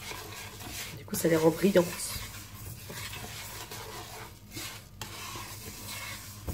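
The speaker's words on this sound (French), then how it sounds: "Et je mélange. En fin de compte, j'enrobe les perles de matière grasse." Pearl pasta being stirred in a pan to coat it with fat, a soft scraping, sizzling stir with a brief louder burst early on, while someone talks over it.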